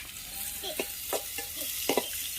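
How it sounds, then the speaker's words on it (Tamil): Onions sautéing in a pan for a village-style panna fish curry, with a steady close sizzle broken by a few brief stirring scrapes. "இப்போ வெங்காயம் நல்லா வதங்கட்டும்."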